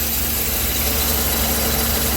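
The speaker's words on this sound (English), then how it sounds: "let the car run for about 5 minutes or so" A 2015 Chevy Suburban engine idling after a battery replacement, a steady low rumble with faint vibration and hum, fairly quiet and unchanging, with no talk.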